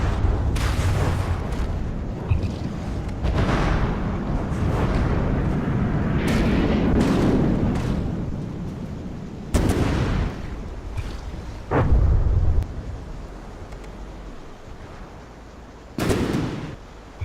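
Tanks shell enemy positions in a war video game: heavy booms and blasts land sporadically over a dense rumbling backdrop, some close and loud, others more distant.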